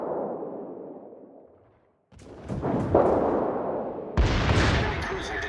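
Warship guns firing in a naval video game featuring the destroyer T61, heavy booming salvos in several sharp bursts after a fading rumble, with a louder blast near the end.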